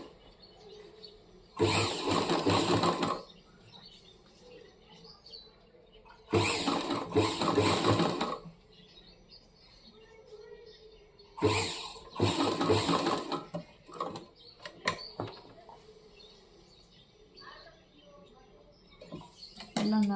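A sewing machine stitches blouse invisible piping in loud, rapid bursts of a few seconds each, separated by quieter gaps where a person speaks softly.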